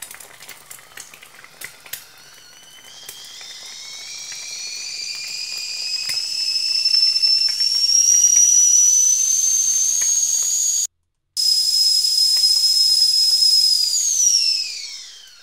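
A kettle whistle rises from a low hiss into a loud, sustained high-pitched shriek that climbs in pitch over several seconds, with faint frying crackle underneath, briefly cutting out near the end before dropping away.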